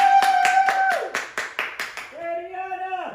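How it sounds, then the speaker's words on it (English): A small group claps at a family 8th-grade homeschool graduation celebration, about eight quick close claps under a speaking voice, followed by more talk. "Give yourself a round of applause."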